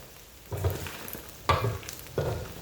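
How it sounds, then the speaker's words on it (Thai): Pork skin fries in hot oil for pork rinds, hissing and crackling in three surging bursts as the pieces are stirred, with a quieter sizzle between them and no talking. "แล้วก็เจียวไปเรื่อยๆค่ะ"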